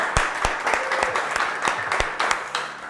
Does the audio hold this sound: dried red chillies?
no